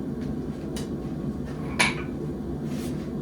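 While a blacksmith swaps forging tools, a few sparse metallic clinks and taps ring out over a low workshop hum, one of them noticeably sharper and louder.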